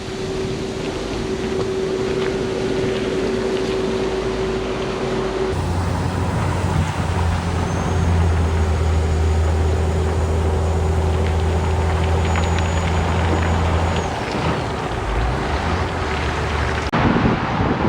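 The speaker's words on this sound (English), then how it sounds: "can probably hear the noise of the traffic over my right shoulder" Steady roar of highway traffic beside the P'tit Train du Nord bike trail in Quebec, with a low engine drone that swells in the middle, heard outdoors with some wind across the microphone.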